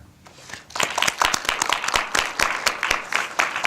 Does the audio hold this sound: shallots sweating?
no